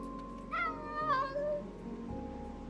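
A cat meows in the video game Calico, two short rising mews close together followed by a softer trailing note over a quiet rain-like background.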